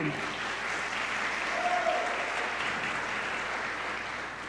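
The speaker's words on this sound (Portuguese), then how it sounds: "Salva de palmas, né?" A Sunday evening church congregation breaks into sustained applause, a steady, full-room clapping that continues evenly for several seconds with a faint tonal sound briefly rising in the middle.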